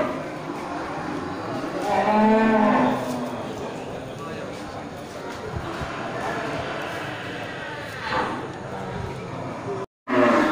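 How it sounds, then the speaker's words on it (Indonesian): Cattle at the Grugo livestock market, including fattened local beef cattle, low a few times amid a busy crowd murmur, with one loud close call rising out of the steady market din and voices in the background. "itu dia suasana di pasar hewan Grugo tanggal 26 Oktober 2021"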